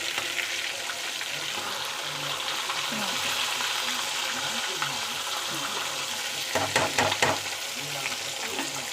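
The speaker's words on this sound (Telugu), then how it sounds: "చేప ముక్కలు ఇంత క్రిస్పీగా ఫ్రై అవ్వాలండి" Fish pieces frying crisp in a pan, a constant soft hiss and crackle of oil heard close, with a short burst of louder spattering near the end.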